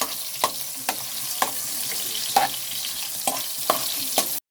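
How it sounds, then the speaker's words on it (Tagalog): Onions frying in a pan for home-cooked pakbet with tilapia, a steady sizzle under a run of sharp utensil scrapes and clicks against the pan, spaced roughly every half second to second, close and fairly loud with no talking. "Haluin muna natin guys para pumula po."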